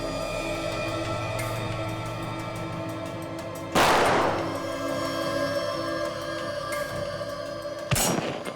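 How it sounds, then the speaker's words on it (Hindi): Gunfire from a bank robber's country-made pistol, played back in slow motion as security footage: two sharp broadband bursts stand out over a steady hum, each decaying slowly and sounding stretched and heavy. "गोलियां तो चली है।"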